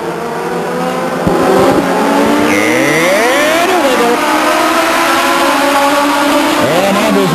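Legends race cars roaring around the Stockton 99 Speedway oval in 1999, a loud continuous engine drone with revving pitch sweeps as cars pass close by.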